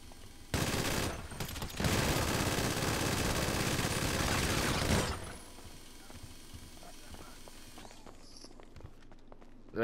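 A minigun fires a loud, continuous roaring burst for about four seconds in GTA V Online, then gives way to quieter footsteps and scattered game sounds.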